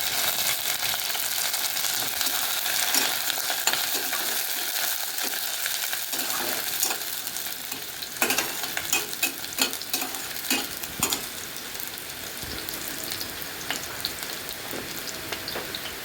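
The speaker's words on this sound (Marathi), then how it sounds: "थोडासा हिंग, काही चांगलं लालसर होईपर्यंत भाजत" Curry leaves and asafoetida fry in hot oil in a pan, a dense steady sizzle with scraping stirs and occasional clinks of the spoon against the metal, close up.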